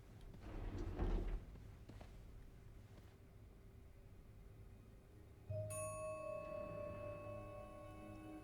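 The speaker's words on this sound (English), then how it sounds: "Sounds like the elevator doors are jammed." Jammed elevator doors in a video game give a dull sliding clunk near the start, then a steady metallic ringing tone holds through the second half. No one speaks.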